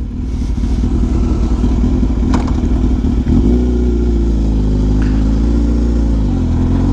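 A 2004 Suzuki GSX-R 1000 SRAD K4 sport motorcycle being ridden, its engine droning loud and steady with a brief rev change midway, close and continuous with no talk.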